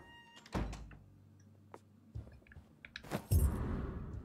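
A door opening in the Vampyr video game: a heavy thunk with a low rumble, a short creaky sustain, then a second louder thud and rattle near the end, close and clear with no talk.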